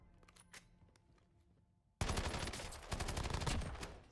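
Rapid-fire gunfire in the Black Ops 7 Zombies video game starts abruptly, a dense continuous burst of automatic shots close and loud, following a quieter stretch of game sounds.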